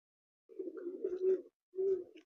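A golden pigeon, a young bird raised at home, gives low, throaty coos: a long rolling coo, a short pause, then a second shorter coo. The calls are close and fairly soft, with no talking.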